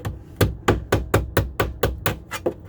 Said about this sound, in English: Just the side of the hammer, nice and easy.